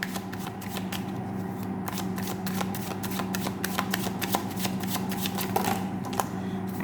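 Tarot cards being shuffled close by, a steady run of crisp riffling flicks and soft slaps for several seconds, with no voices over it.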